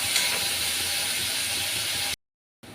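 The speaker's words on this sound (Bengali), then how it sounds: "এগুলো দিয়ে কিছুক্ষণ এইভাবে নেড়ে চেড়ে ভেজে নেব।" Onion paste frying in a pan, being stirred, gives a steady bright sizzling hiss that runs loud and even, then cuts off abruptly into silence before faintly resuming at the end.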